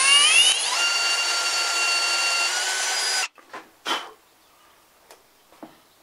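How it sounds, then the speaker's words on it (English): A small drill bores a tiny hole, under 2 millimetres, right through a ram pump valve, whining steadily and loudly for about three seconds before stopping, followed by a few faint clicks and knocks. "I'm gonna drill a very small hole in the valve here, and I'm gonna drill it right through the valve."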